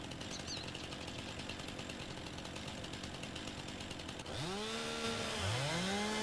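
Chainsaw in Farming Simulator 19 cuts into a tree with a steady, droning buzz, then rises in pitch and revs up and down in sweeping surges near the end, with no voices.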